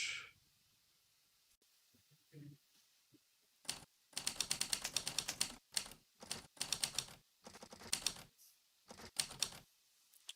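Typing on a computer keyboard while writing a script, quick bursts of clacking keystrokes separated by pauses, close and fairly clear, with no talking.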